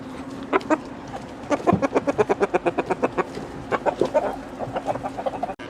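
Chickens on a farm cluck in rapid rhythmic bursts, several birds close by, repeating pulses of clucking with brief pauses between runs.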